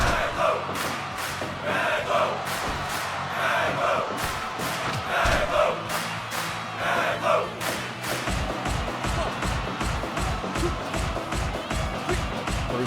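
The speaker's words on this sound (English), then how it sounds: "And that's going to get the crowd fired up." Wrestling arena crowd roars and cheers continuously throughout, with loud chanting swells and rhythmic thumps and claps growing sharper in the latter half.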